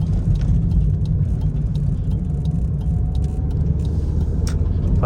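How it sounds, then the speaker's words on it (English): A 1999 Honda Civic with a swapped engine drives along, its steady engine drone and road rumble loud and close throughout, with no talking. "all together this car shifts a lot smoother than my Maxima does"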